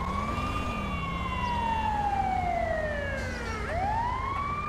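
An ambulance siren in GTA 5 wails, sweeping up and down in pitch, loud and continuous, with a brief dip and restart near the end.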